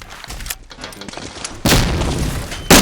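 A grenade goes off in Medal of Honor: Allied Assault multiplayer, a sudden loud broadband blast after a stretch of quieter game noise and distant shots, followed by a second sharp burst at the very end.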